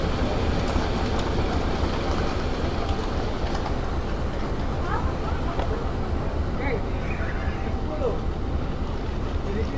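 The Bukit Serelo passenger train rumbles along the tracks in South Sumatra with a dense, continuous clatter and roar, loud and close, with faint squeals now and then.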